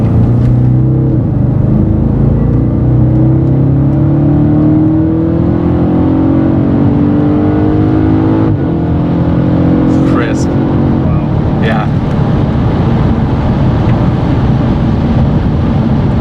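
A V8 Audi RS5 in sport mode accelerates hard, its engine note climbing steadily in pitch through the revs, loud and continuous inside the car, with a shift midway before it pulls again.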